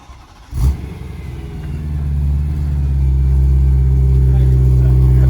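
A car with a newly fitted catless X-pipe exhaust fires up with a sharp burst, then settles into a loud, deep rumbling idle that swells and grows steadily heavier.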